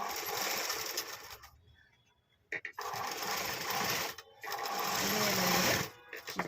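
A sewing machine stitches through layered fabric for a doori design, running in steady whirring bursts broken by brief pauses where it stops and restarts, close and moderately loud.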